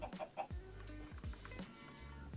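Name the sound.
chickens clucking in Minecraft video game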